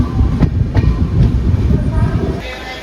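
Yesvantpur Weekly Express train rumbling at Kuppam railway station, with a steady low roar and a few sharp rhythmic clacks running through most of the clip, no talk.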